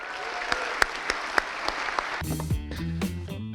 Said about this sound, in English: So give it up for our best city manager of Orem, Bryn Bybee, everybody.